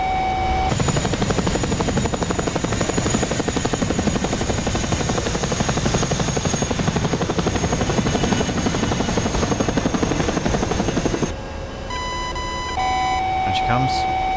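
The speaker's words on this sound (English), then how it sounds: "I nearly got a lock on the Chinook there" A Chinook helicopter in an A-10 Warthog flight combat game gives a steady, loud rotor thrum with a whining engine tone that runs the whole time, then drops abruptly near the end to a thinner electronic beeping.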